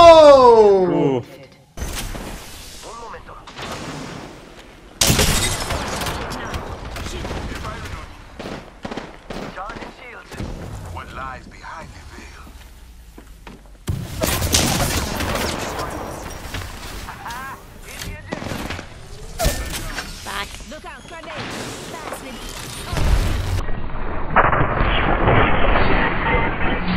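Gunfire in a shooter video game, fired from the hip: a series of sharp shots spread across the stretch with explosive bursts and game effects, heard under excited voices talking throughout.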